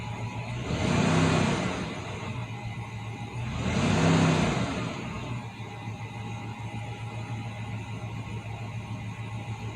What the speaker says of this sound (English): just press the gas a little bit, tap it like 1-2 times